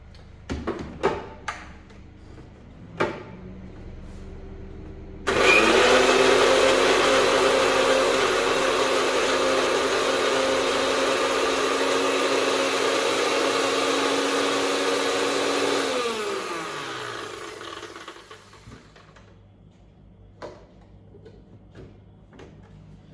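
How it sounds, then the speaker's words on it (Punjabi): A mixer grinder starts abruptly and whirs loudly and steadily for about ten seconds, then winds down, with a few clicks and knocks before and after. "ਲਓ ਜੀ ਆਪਾਂ ਇਹਨੂੰ ਹੁਣ ਮਿਕਸੀ 'ਚ ਮਾਰਨ ਲੱਗੇ ਆਂ"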